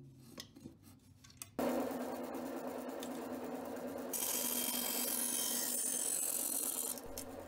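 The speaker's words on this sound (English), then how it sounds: "A little shaping on the bandsaw" A bandsaw cuts and shapes a wooden hand plane. After a few quiet knocks, a loud, continuous cutting rasp starts, close to the microphone, and brightens into a harsher hiss partway through.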